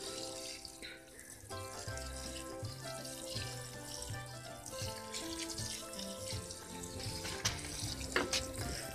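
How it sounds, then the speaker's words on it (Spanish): A watering can pours a steady, splashy stream of water onto freshly sown pole beans in an urban organic vegetable patch, with continuous trickling and light spattering for several seconds. "agua en una regadera"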